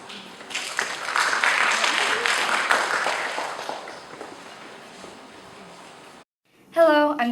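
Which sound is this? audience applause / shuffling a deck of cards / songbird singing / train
audience applause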